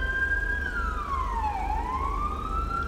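A police car siren in a GTA FiveM roleplay game sweeps down and back up in pitch, steady and moderately loud over a low engine drone, with no talk.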